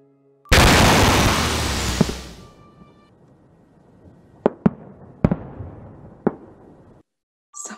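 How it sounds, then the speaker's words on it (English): Fireworks bursting at night in a horror film trailer: a huge loud blast with a long crackling decay, then several sharp distant pops and bangs spaced over a few seconds, ending in a brief quiet tail. "Why don't you tell me why there's fireworks at 2 a.m.?"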